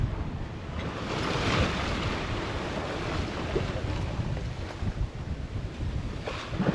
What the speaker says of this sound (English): the sea state's calmed down really nicely now. It's a gentle swell